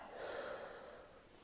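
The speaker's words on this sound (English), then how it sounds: "deep breath. Breathe out." A person takes a deep breath and lets it out during a chiropractic session, a soft, close airy exhale lasting just over a second.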